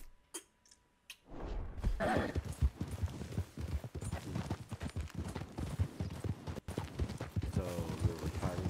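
Rapid clip-clopping horse hooves in Red Dead Redemption 2, steady and close, starting after a few sharp clicks, with a faint whinny late on.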